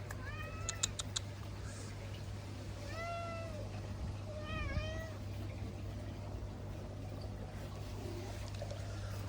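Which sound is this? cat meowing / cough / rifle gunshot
cat meowing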